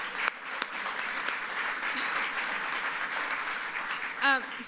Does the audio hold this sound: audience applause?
yes